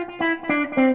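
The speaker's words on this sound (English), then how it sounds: "I also have an auto wah made by Mad Professor called a Snow White pedal" An electric guitar runs through a Mad Professor Snow White auto wah pedal, three plucked notes close up, each swelling with a vowel-like envelope sweep and a slightly gritty, effected tone, with no voices.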